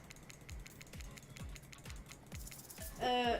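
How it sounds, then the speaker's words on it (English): Fast mouse or keyboard clicking at a computer during a timed game, a steady run of sharp clicks about every half second, ending in a brief louder burst of tones. "Fast clicking, fast clicking."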